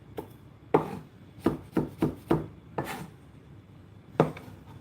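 A knife chops ingredients for Hungarian paprika soup on a cutting board: about eight crisp, uneven strikes close by, with quiet gaps between them and no voices.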